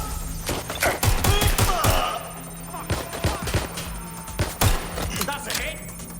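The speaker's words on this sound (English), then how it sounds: "Shots fired." Gunfire in the video game Watch Dogs: Legion, a burst of rapid shots early on followed by scattered single reports and thuds, mixed with game sounds and a voice talking.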